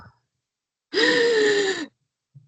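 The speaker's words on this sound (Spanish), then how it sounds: "Puedo también tener situaciones en las que el paciente respire muy profundo" A single deep, drawn-out breath demonstrated by a voice, lasting about a second in near silence, loud and close with a breathy, voiced sigh-like quality.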